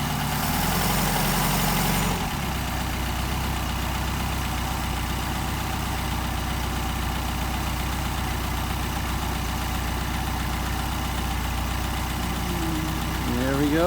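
A Mercedes 190SL engine with Solex carburetors idles steadily, a low even rumble close by throughout; a brief louder burst of noise opens it before the idle settles.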